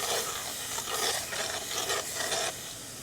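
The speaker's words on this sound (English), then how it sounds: "Just sizzling." Smoked kielbasa mac and cheese with half and half sizzles in a pan on a Pit Boss pellet grill, a dense steady hiss with rhythmic scraping stirs, close and loud, easing off in the final moment.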